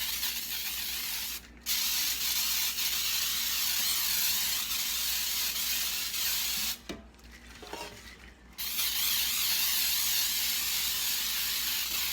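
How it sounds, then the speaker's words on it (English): Cooking spray on baking pans: continuous broad spray hiss lasting several seconds, with two short pauses, close and fairly loud, no talking. "spray my pans"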